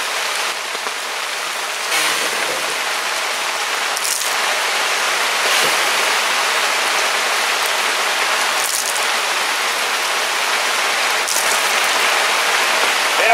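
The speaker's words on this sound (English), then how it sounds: "bring on the freaking rain!" Heavy rain pours down in the Oregon Coast Range during fall, a loud, constant close hiss of drops hitting surfaces, with occasional brief louder patters and no voices.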